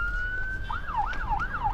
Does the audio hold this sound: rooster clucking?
no